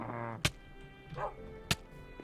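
A dog barks twice in a Minecraft game, two sharp separate yaps about a second apart over quiet background, with a brief voice-like sound between them.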